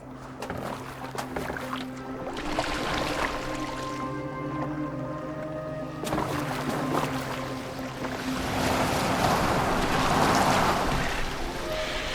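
Boat gliding over water in Assassin's Creed Valhalla, a steady wash of waves and hull noise that swells toward the end, under a sustained musical drone with no talk.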